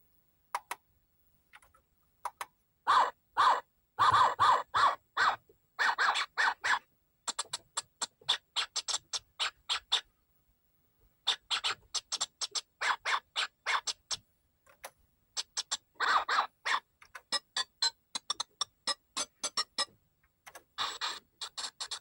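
Atari ST playing 8-bit digitized samples through a Microdeal stereo playback cartridge: choppy bursts of gritty sampled sound in rapid stuttering clusters, separated by short silences, loud and close with no talk.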